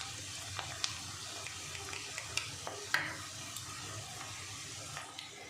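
Ginger paste is stirred into chopped onions frying in a pan, a soft, quiet sizzle with scattered scrapes and taps of a spoon, heard alone.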